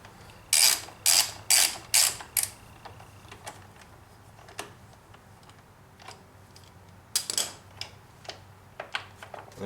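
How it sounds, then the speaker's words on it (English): A ratchet with a 4mm Allen socket working the screw that holds a Kawasaki Vulcan 900 oil filter cover: a quick burst of sharp ratcheting clicks, then sparser isolated clicks and another short run later, close and crisp. "It's the same 4mm Allen head socket to get this screw off that holds the filter on"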